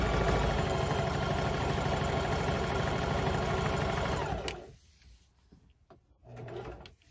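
Sewing machine stitching steadily through Kellon batting with 40 weight polyester thread and a Schmetz 100x16 jeans needle, a loud continuous mechanical whir lasting about four seconds before it stops, leaving quiet handling noises.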